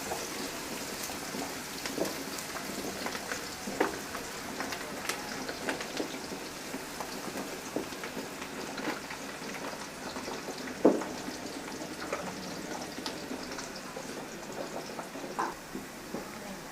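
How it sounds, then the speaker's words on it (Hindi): Onions frying in a pan until lightly browned, a soft, even crackling sizzle that runs steadily throughout with scattered faint pops and one sharper tap, no talk. "प्याज डालने के बाद हम इसको हल्का ब्राउन करेंगे।"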